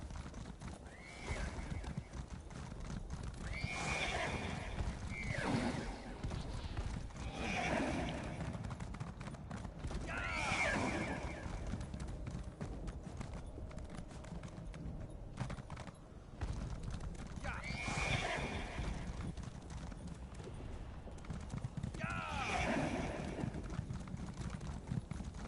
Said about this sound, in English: You can ride your horse.